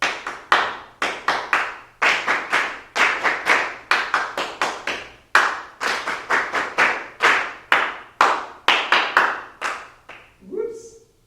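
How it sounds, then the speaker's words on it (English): An audience claps back rhythm patterns at a vocals workshop, with crisp, loud bursts of claps in short repeated groups separated by brief pauses, ending with a single voice. "now clap after me"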